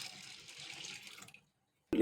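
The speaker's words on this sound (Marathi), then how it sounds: "त्यामध्ये भिजेल इतपत भरपूर पाणी घालून ठेवायचे" Water runs from a tap over chana dal set to soak, a soft, steady stream, then cuts off; a short clatter follows after a brief silence.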